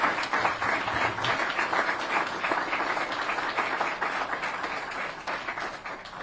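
Audience at a Virginia government event on universal broadband applauding, a dense, steady wash of many hands clapping that carries on for several seconds at moderate loudness.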